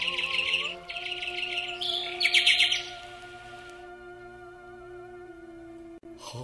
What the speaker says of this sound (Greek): Ο το πουλάκι. Τι γλυκιά η λαλιά του.